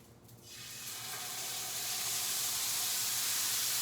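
Chicken hits a hot grill and a loud, steady sizzle rises within a second and keeps building, hissing continuously up close.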